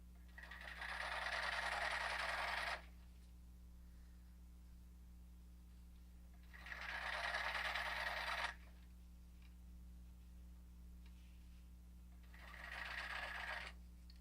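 A sewing machine stitches down the length of a fabric casing for a gray T-shirt diaper, running in three steady whirring bursts separated by quiet pauses.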